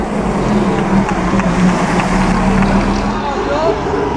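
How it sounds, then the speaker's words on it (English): Bugatti engine in a car at the 2013 Mille Miglia road race, close and loud, a steady throaty drone with a low humming tone that holds for several seconds before easing off slightly near the end. "Downshifting. The ground thunders."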